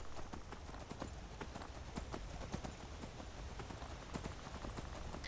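Steady clip-clop of horse hooves at a trotting rhythm in the video game Skyrim, continuous and fairly close, with a faint background hum throughout.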